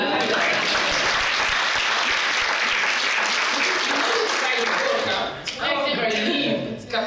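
Sustained applause from an audience at a panel on overcoming homophobia in sport, loud and dense for about five seconds before thinning out, with scattered voices and cheers near the end.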